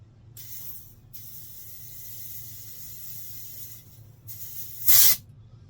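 Compressed air from an airline blows through a Mikuni 34 carburettor off a Yamaha Virago 535, a steady broadband hiss over about three seconds, a brief pause, then a short louder blast near the end.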